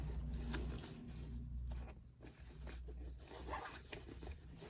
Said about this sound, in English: if I open that zipper properly